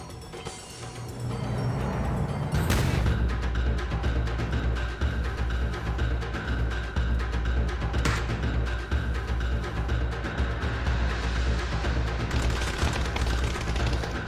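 Gunfire in a battle royale video game, including a Vector submachine gun: a sharp opening shot, then loud, dense, sustained automatic fire with a second distinct crack partway through, and no talking.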